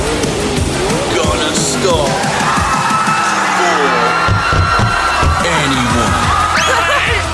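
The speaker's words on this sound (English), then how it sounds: "that was the sound of a car driving for a crowd of people" A car passes a cheering, whooping crowd, engine noise sweeping through amid loud shouts and screams, with a voice talking over the din throughout.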